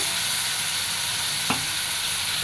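Spice masala frying in a pan with a little water gives off a continuous close sizzle, broken once midway by a short scrape or stir of the pan, with no talking.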